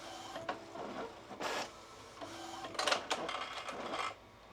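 An Epson 8550 DTF printer whirs and clicks as it goes into sleep mode, with irregular mechanical bursts and rattles over a low steady hum.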